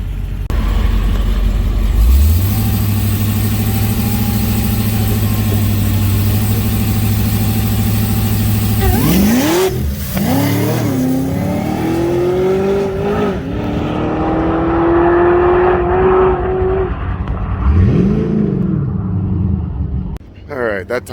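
A stock-engine Cadillac CTS-V sits in a loud, steady drone at the drag strip, then launches with a roaring engine that climbs and falls in pitch through its gears. Talk carries on over the engine throughout.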